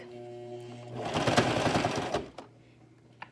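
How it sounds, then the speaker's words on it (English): A sewing machine stitching elastic onto a fabric face mask runs in a fast, rapid stitching burst for about a second, then stops, with a faint motor hum before and after. "It's a great sewing machine, but it's not like a super fancy machine"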